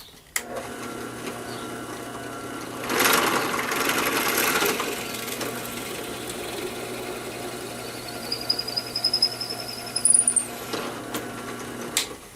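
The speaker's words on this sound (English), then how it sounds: "I'm going to drill a 5/16 hole in the approximate center of my timber" A small drill press whirs steadily while drilling a 5/16-inch hole into oak timber, with a brief louder burst as the bit bites in and a rising whine near the end.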